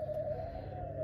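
A dove in an aviary gives a single soft, steady, low cooing note, heard close and alone.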